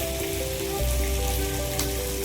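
Dried red chillies frying in hot oil for a Tamil fish curry, a steady close sizzle with soft crackle running throughout, no voices.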